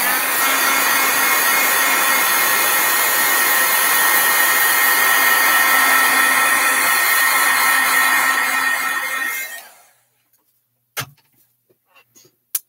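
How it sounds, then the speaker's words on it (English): A heat tool blows hard and steadily at close range for about nine seconds while setting stamp ink, then cuts out, leaving quiet with a couple of small clicks. "I'm going to heat set these again real quick"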